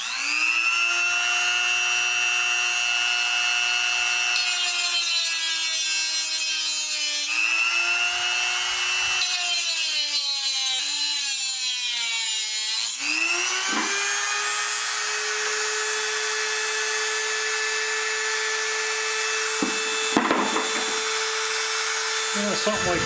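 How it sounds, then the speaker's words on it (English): A screwdriver cutting a groove. A loud, steady motorised whine runs throughout, sagging and rising in pitch as the cut loads and frees up, with scraping grit along the way. "I'm just going to try to cut the groove in it."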